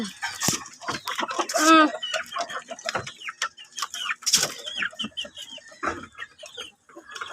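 Chickens cluck and squawk nearby in a lively, irregular chorus, with a rooster's call rising briefly among them.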